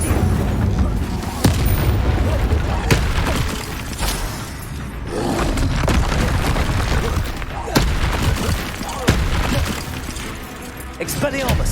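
Spell effects crackle and boom repeatedly in Hogwarts Legacy combat, sharp bursts and blasts in quick succession over a dense, noisy battle mix.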